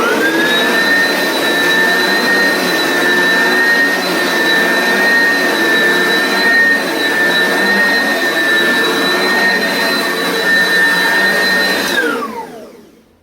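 An Oreck XL Commercial upright vacuum cleaner runs steadily at close range, a loud continuous motor whine with a high pitched tone that holds for about twelve seconds before it shuts off and spins down.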